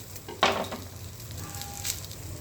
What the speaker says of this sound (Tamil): இந்த அடை நல்லா வெந்துக்கிட்டு இருக்கு